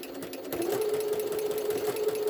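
A Jaguar SJ-23 sewing machine stitches with its pleating mechanism engaged, giving a steady, close, even mechanical whir with a constant motor hum and no pauses.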